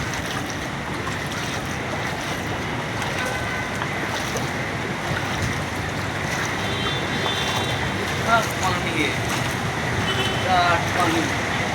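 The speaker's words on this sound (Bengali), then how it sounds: "সমুদ্র ঢেউ খেলছে" Sea waves rolling and churning near a building, a continuous loud wash of surf with gusty wind noise and swelling surges toward the end.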